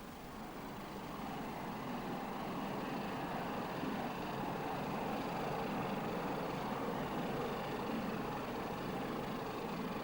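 Two British Rail Class 31 diesel locomotives arriving at London Paddington terminus give off a steady, broad rumbling drone that holds at an even level throughout, with no voices.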